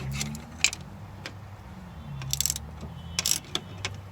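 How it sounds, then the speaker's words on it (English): A ratcheting wrench tightens a sway bar link during front strut replacement, giving short bursts of metallic clicking with sparse pauses over a low background hum. "in this case I have a ratcheting wrench"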